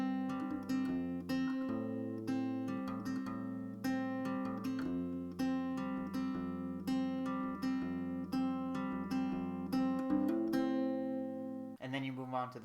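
Fingerpicked acoustic guitar chords ringing steadily, notes plucked in a flowing pattern with sustained tones, clear and close, no voices.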